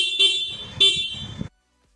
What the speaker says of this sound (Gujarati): મિત્રો હોર્નનો અવાજ સંભળાવું તમને